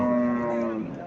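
A Friesian cow at a cattle market in Cumilla gives a single short, close, loud moo.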